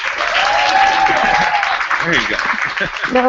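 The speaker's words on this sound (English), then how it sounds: "So hopefully you'll hear their applause in just one moment." Audience applause at a writing project's book discussion, a steady wash of clapping lasting throughout while a voice speaks briefly over it near the end.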